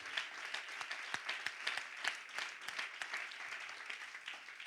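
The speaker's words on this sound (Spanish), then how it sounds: "Denle un aplauso al Señor Jesucristo" A church congregation claps for a few seconds, with scattered and fairly faint hand claps at an uneven rhythm and some sharper individual claps standing out.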